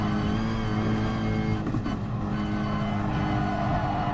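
A race car engine in the video game Gran Turismo Sport drones steadily at high revs, with a brief dip around the middle as the car shifts gear, then climbs again; loud and continuous.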